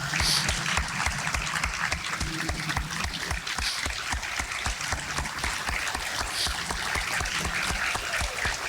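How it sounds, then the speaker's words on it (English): Audience applause for firefighters at a volunteer fire department's 150th anniversary celebration, steady hearty clapping from a large crowd with some rhythmic, synchronized beats, sustained throughout at a near, loud level. "let's give them all a round of applause and be recognized"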